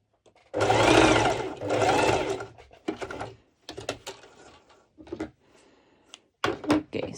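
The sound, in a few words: sewing machine stitching a mesh halter neck top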